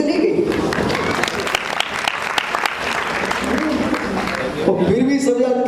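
Audience applause at a religious gathering honouring Acharya Vishuddh Sagar Ji Maharaj in Muzaffarnagar, a sustained burst of dense hand clapping from a large crowd, steady throughout with a voice briefly surfacing near the end.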